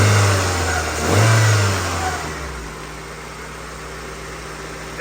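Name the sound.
four-cylinder car engine revving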